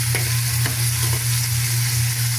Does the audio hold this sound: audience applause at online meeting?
no